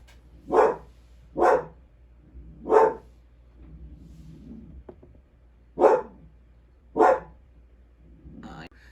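A dog barks five times nearby in separate loud bursts, with a pause of low murmuring between the first three and the last two.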